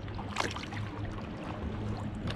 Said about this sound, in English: I'm on the lake. I'm kayaking.